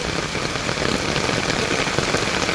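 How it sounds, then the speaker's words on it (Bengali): Heavy rain falls in a continuous broadband wash of drops hitting surfaces, moderately loud and uniform, with no speech. "খুব জোরে বৃষ্টি হইতেছে।"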